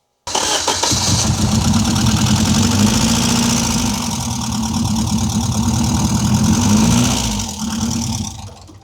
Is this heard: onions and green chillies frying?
no